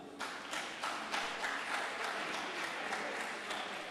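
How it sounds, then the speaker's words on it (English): Audience clapping at a live chapter event in Abuja, a steady, moderately loud round of applause from a hall of people with a few sharper individual claps. "A round of applause."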